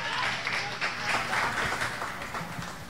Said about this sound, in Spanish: gracias de nuevo por los aplausos